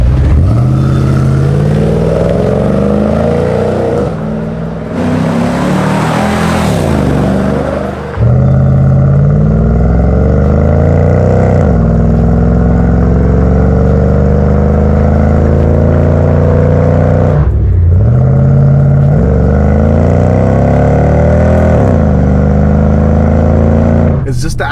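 A Lexus LX470 V8 roars loudly through an aftermarket dual Japanese Yakuza-style axle-back exhaust, revving up and down repeatedly in rising and falling sweeps with deep rumbling tone, recorded close by.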